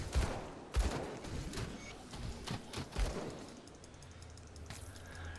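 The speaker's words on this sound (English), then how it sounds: "Throwing Aether grenades!" Aether grenades detonate in the action RPG Grim Dawn, a few muffled blasts and crackling bursts scattered over a busy battle din, moderately quiet with no talking.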